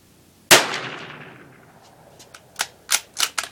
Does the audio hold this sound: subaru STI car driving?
no